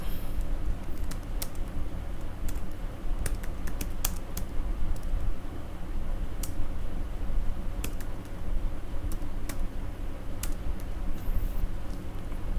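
Someone types steadily on a computer keyboard while working in Excel, with crisp, close key clicks in an irregular rhythm over a constant low room hum and no talking.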